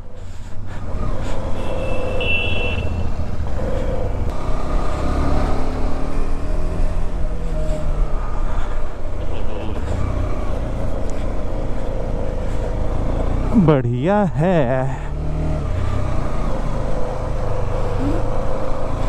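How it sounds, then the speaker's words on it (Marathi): A steady motorcycle engine drones with constant wind rush as it rides along a mountain road near Jispa at 10,500 ft, and a voice briefly speaks over the noise. "खूप छान परफॉर्म करत आहे माझी बाईक"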